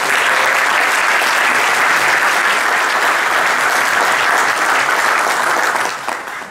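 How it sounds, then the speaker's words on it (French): Loud, dense audience applause at a master's degree graduation ceremony that holds steady for several seconds before tapering off at the end. "Et je vous demande d'applaudir."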